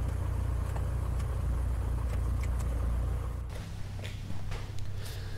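An aircraft engine fitted with a Garmin GI 275 EIS idles at proper idle RPM, a steady low droning rumble heard close up and moderately loud, easing slightly after a few seconds, with no voices.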